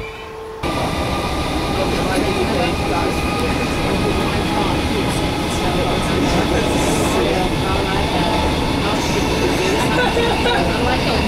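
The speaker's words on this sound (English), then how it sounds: "there's our train" A train rumbles steadily nearby for several seconds as it reaches Mells Station, a broad continuous roar with faint higher whines, loud and unbroken.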